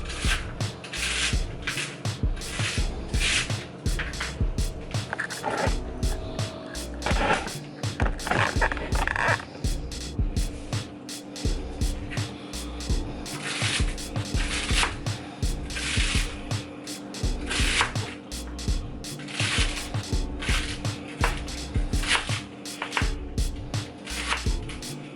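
A knife chops celery stalks into small rings on a cutting board, a steady run of close, crisp, repeated cuts for the whole stretch with no talking.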